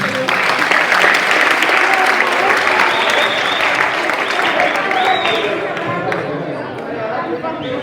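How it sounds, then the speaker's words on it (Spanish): Dense, loud audience applause fills a rap showcase for young performers, steady clapping with cheering and voices mixed in throughout, easing slightly toward the end. "un fort aplaudiment per vosaltres"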